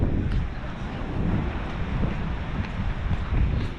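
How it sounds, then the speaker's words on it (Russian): Strong, steady wind buffets the microphone at a seaside promenade in Lazarevskoye, a continuous low roaring rush with gusts rising and falling and no talking. "Но ветер здесь сильный."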